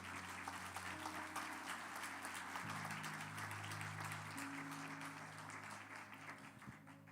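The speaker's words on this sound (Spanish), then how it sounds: "Si vas a aplaudir a lo fuerte" A church congregation claps loudly during a sermon, a dense, continuous wash of hands over sustained organ or keyboard chords, fading slightly toward the end.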